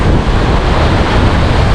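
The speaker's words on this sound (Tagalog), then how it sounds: "Ay, lakas talaga ng hangin." Strong wind buffets the microphone at a seashore fishing spot on a rising tide, a steady loud roar of gusts and surf filling the whole stretch without a break.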